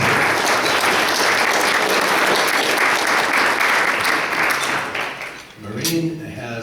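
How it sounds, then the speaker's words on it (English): Loud, sustained applause from a breakfast audience honoring a longtime hospital laboratory worker, a dense wash of clapping that fades near the end as a voice begins speaking. "Give her applause"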